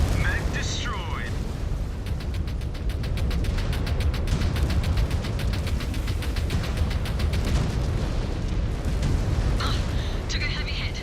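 Mech exploding under heavy fire in a video game: sustained cracking blasts and rapid gunfire over a dense rumbling roar, loud and continuous, with voices talking over the battle.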